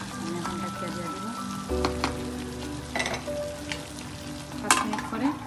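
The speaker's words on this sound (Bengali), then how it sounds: "এখন আমি নাড়াচাড়া করে ডাকিয়ে দিব 5 মিনিটের মতো" Chicken curry sizzles and fries steadily in a pan while being stirred, with scraping strokes and a few louder clinks over the constant crackle.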